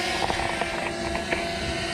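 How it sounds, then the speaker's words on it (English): A small camera drone with a searchlight makes a steady, fairly loud rotor whine and buzz as it flies past outdoors near a track, with the pitch shifting slightly over two seconds and no talk over it. "Give us a flyby, Jason."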